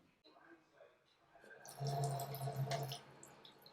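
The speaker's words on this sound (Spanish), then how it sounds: "Vamos a ir a echarle agua." Water is poured from a tap onto a waterproof Cricut sticker, with a quiet lead-in and then about a second of splashing, gurgling flow. A voice speaks faintly beneath it.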